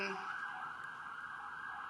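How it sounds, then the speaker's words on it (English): Sirens wail steadily in the distance, rushing by, the tone holding level over faint background noise. "that's when the sirens come rushing by, if you heard in the background."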